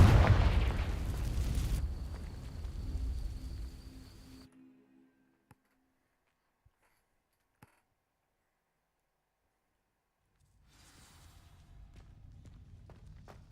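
A Confringo fire spell ignites dry vines in Hogwarts Legacy: a loud burst and roaring crackle that fades over about four seconds into near silence, with a few faint ticks, before quieter ambient rumble returns.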